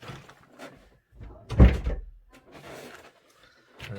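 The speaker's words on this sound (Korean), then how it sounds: "문을 닫았는데 이제 소음이 안 들리도록 하겠습니다." A door pushed shut indoors in a home, giving one solid thunk with a short rattle, preceded and followed by quieter handling knocks and faint rustling.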